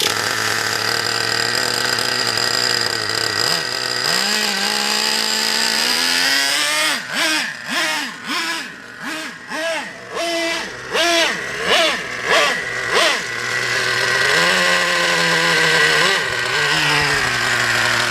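Traxxas Revo 3.3 nitro RC truck engine running close by, a loud buzzing whine that idles, then rises and falls through a series of quick throttle blips before settling back to a steady drone.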